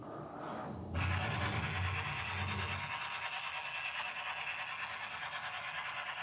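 Model train locomotive running along track, a steady rattling, clattering mechanical hum that starts abruptly and continues evenly and fairly close throughout, with a faint high whine above it.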